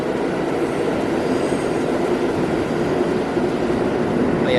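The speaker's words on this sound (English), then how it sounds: "There's a train behind me." A New York subway train at the 28th Street station roars steadily and loudly close by, a continuous rumble of wheels on rails with faint squeals, no voices over it.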